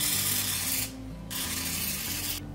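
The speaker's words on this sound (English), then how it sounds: "I'm gonna spritz them each with a little bit of olive oil." Olive oil spray spritzes onto tortillas in two long hissing bursts split by a short gap, with a quick final puff at the end, close and steady with no voices.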